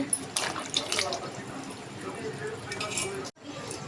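Muddy wild village mushrooms are rinsed under running water, a close splashing wash with light clinks of a vessel, and a voice is faintly present over it.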